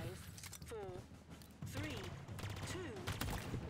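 Burst-fire weapon shooting in Halo Infinite, with dense repeated gun bursts under steady game noise and a few whooshing tonal sweeps, while a voice talks over part of it.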